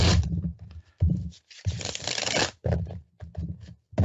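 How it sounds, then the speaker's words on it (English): A deck of tarot cards is shuffled in a series of brisk, close riffling bursts separated by short pauses, heard plainly and without talk. "I'll shuffle them up and take another look at that."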